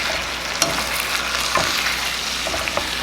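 Steak sizzles in a hot pan in a steady, crackling hiss, close and loud, broken by a few sharp spits and pops with no talking.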